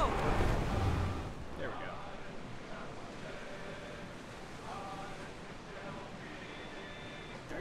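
Ship sailing through ocean waves in Assassin's Creed Odyssey, a steady wash of surf and wind noise running throughout, with a brief spoken line near the start and faint voices over the sea.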